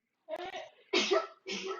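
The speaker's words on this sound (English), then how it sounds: "They sneeze like that." Three quick pet bird sneezes in a row, close and sharp, each a short burst with a breathy release.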